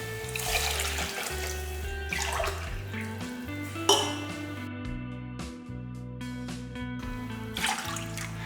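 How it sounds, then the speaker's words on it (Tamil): Water runs from a tap into a pot for moong dal payasam in a home kitchen, a steady close pour with a few metallic clinks of the vessel, no talking. "இந்த கப்பில் மூன்றரை கப் அளவுக்கு தண்ணி ஊற்றிக்கலாம்"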